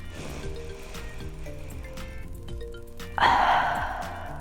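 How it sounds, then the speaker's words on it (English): A deep breath drawn in through the nose and let out through the mouth, led as a group exercise; a soft inhale under steady background tones gives way to a loud, rushing exhale near the end. "we're gonna breathe in and then breathe out. Take a deep breath."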